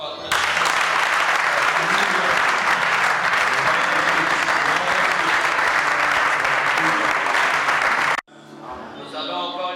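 A church congregation applauds at a gathering, a dense, loud, sustained clapping that fills the room for about eight seconds, then cuts off abruptly and gives way to quieter voices.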